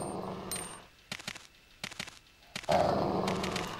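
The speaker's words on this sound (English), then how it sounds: "Bad dog." Zombie dogs in Resident Evil 2 snarl and growl in short, rough bursts, with attack noises and a louder surge of rumbling game sound near the end.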